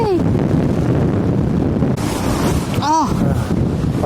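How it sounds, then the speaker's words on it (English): Strong gale roaring across an exposed hilltop in the Hope Valley, a loud, continuous rush that buffets the microphone, with a brief voice breaking through near the end. "Oh, wind is blowing a gale."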